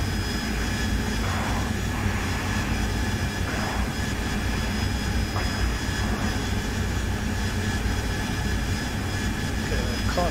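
Continuous loud roar of an AV-8B Harrier jet engine in a flight combat simulator during a close air support mission, a steady unbroken drone with faint tonal whine layered on top.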